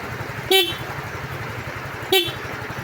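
Two short, sharp toots of a Yamaha MiO scooter horn, evenly spaced about a second and a half apart over a low idling engine.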